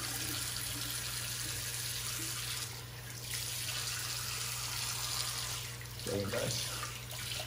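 Steady running water from a tap rinses a razor between shaving passes, a continuous, even hiss and splash close by, with a brief spoken remark and small clinks near the end.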